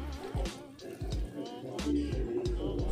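Water splashes and trickles into a pan of sautéed sardines with pechay in several short pours with brief gaps between them, fairly close and moderately loud.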